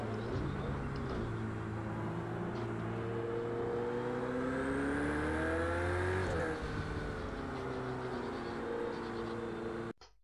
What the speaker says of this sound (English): The sound of this 488.